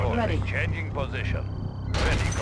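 Boris firing in the real-time strategy game Red Alert 2, with continuous dense gunfire and booming shots beneath an excited voice talking over the whole battle.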